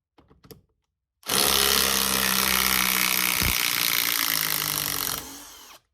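An 18-volt Ridgid brushless impact driver drives a 6-inch lag screw, a loud sustained hammering whir lasting about four seconds before stopping, after a few faint clicks.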